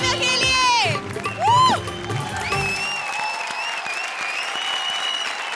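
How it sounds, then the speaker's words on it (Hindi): A comedy show audience applauds second-place runners-up receiving trophies, clapping and cheering under music and voices at first, then continuing more steadily on its own. "जोरदार तालियां एक बार राजीव और काव्या के लिए"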